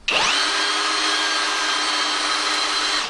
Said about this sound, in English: the clutch settings are exceeded by screwing into old hard oak without a pilot hole